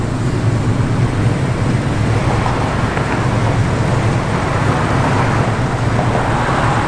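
A 1970 Plymouth Cuda pulling away gently, its engine producing a steady, low rumble with road noise that holds at an even, moderately loud level throughout, with no talking.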